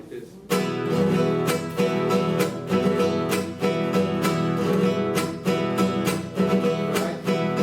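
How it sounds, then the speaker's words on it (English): A strummed mariachi guitar plays a steady, even, monotone rhythm with regular chord strokes, close and clear, with no voices. "If I play it monotone, it would sound something like this."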